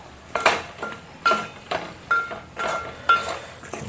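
Eggplant curry with dried fish being stirred in a pot, with four or five evenly spaced spoon scrapes and clinks against the metal over a faint background hiss.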